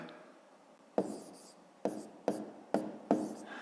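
Pen or pencil strokes writing numbers by hand for a column subtraction exercise, five short scratchy bursts at close range, each starting sharply and trailing off, with quiet pauses between.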